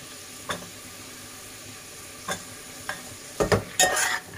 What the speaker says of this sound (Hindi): इसके बाद इसमें मैं बंद गोभी शामिल करूंगी, उसको फिर हम अच्छे से मिक्स करेंगे।